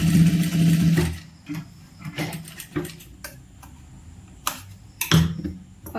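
A sewing machine stitches the sleeve seam of a churidar, whirring steadily at first and then breaking into short bursts and clicks in between, close and clear, with no talk.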